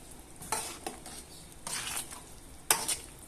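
Chicken being stirred with brown sugar in a pan, heard as a few scraping, clinking stirs spaced apart over a faint background, close and moderately quiet.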